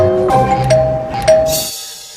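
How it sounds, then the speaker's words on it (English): A doorbell chimes in a few short, clear ding tones, followed by a quiet tail. "This is how people literally have to ring the doorbell."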